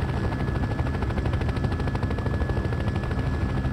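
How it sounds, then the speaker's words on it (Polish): A modded helicopter in Farming Simulator 15 runs with a fast, continuous rotor chop and engine drone, loud and even across the whole stretch with no voices. "dźwięk pracy tego helikoptera jest fajnie zrobiony"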